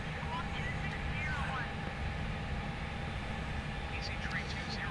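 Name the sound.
airliner engine noise in a flight simulator game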